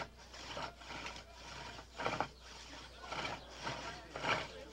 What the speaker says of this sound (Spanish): El taladro de arco era tan solo una de las herramientas que el artesano debía dominar.